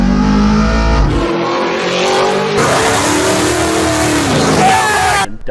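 A donk truck fitted with a fresh Gearstar transmission spins donuts, its engine revving hard and continuously while the tires skid, loud and close throughout.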